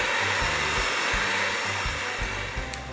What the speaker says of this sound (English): So now all you want to do is mix to bring this together.